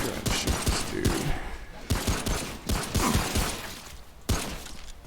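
Rapid gunshots from the video game Remnant: From the Ashes, fired with a pistol: repeated close, punchy bursts in irregular clusters over a noisy background, with a voice speaking faintly underneath.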